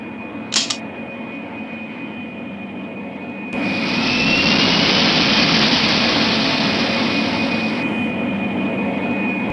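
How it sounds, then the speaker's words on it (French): Airliner jet engines spool up for takeoff: after a brief beep and a steady cabin hum, a loud, broad roar surges in and holds, with a high hissing whine that fades out near the end. "Veuillez vous asseoir, nous allons bientôt décoller. Nous sommes prêts à décoller."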